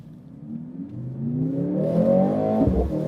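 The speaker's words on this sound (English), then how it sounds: "maybe we can turn on the engine." A 2023 Mercedes-AMG C63 S engine starts up and revs, its tone rising steadily and swelling louder toward the end, heard close from inside the car with no talking.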